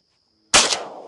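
A single loud shotgun blast fired at a teal during opening-day duck hunting in Nebraska, a sharp close crack that follows silence and then rings out and decays.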